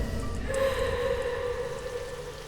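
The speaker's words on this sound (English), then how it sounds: "Rain fell from the sky, dousing the flames." Steady rain falling and dousing flames, a broad continuous wash of noise with a sustained tonal hum running through it, fairly loud and even throughout with no voices.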